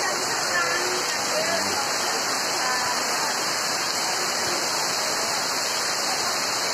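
Steady, loud rush of rain and wind, a constant dense roar with faint voices murmuring underneath, during a tornado storm in Kaliasem, Kalipare.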